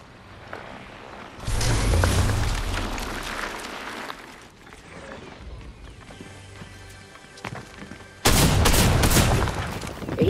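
Rapid drum gun fire in Fortnite, bursts of sustained automatic shots in two loud stretches separated by quieter game noise.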